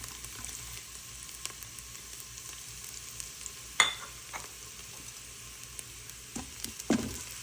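Garlic frying in a pot for a spinach and kale lentil daal, a steady soft sizzle with a few sharp stirring clicks and scrapes against the pot, with no talking.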